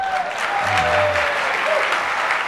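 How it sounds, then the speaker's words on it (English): A sprinkling of applause from a conference audience at the opening of a psychotherapy symposium, steady and fairly close throughout, with a faint voice briefly audible underneath. "there's a sprinkling of applause there"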